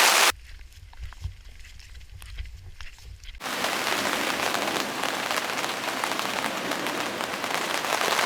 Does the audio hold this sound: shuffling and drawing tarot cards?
no